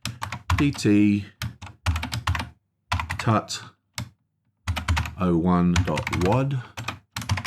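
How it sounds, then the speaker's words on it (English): Someone types on a computer keyboard, the quick clicking keystrokes coming through between and beneath a person speaking close by. "I'm just going to type in"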